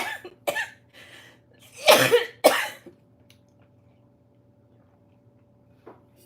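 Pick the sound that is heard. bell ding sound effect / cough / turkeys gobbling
cough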